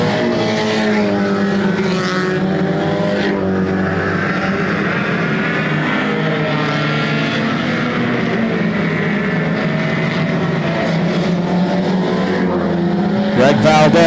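Race cars circling a speedway on Easter night, a continuous loud engine roar with shifting pitch as cars pass, steady throughout with a brief swell near the end.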